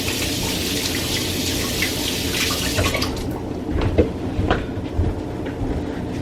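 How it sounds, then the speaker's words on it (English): Kitchen tap water running into a sink during handwashing, a close steady rushing splash that turns into uneven splashing and dribbles as the hands move under the stream. "Now I've got to get my hands washed off"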